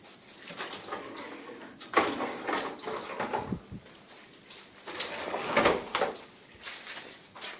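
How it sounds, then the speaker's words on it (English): A sticking sliding closet door is dragged open and shut along its track in a house, several rough scraping slides and bumps of varying loudness, close by, with no talk. "This closet door sticks."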